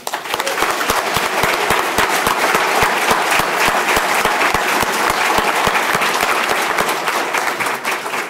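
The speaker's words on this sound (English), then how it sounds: "I'd like to take this time for everybody to applaud all the winners tonight" Audience at a Best Places to Work in Vermont awards event applauding the winners, loud dense clapping close by, sustained and even throughout with no talk over it.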